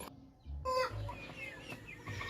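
Rhode Island Red chickens give quiet, scattered clucks at close range, a few short calls over a low background with no speech.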